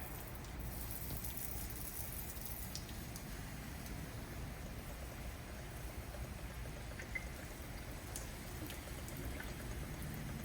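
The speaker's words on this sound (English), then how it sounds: "we're going to go back to the water just to kind of rinse everything" Water sprays over natural thin stone veneer to rinse off acid and mortar residue, a steady, even wash of hissing and splashing that continues without a break at moderate volume.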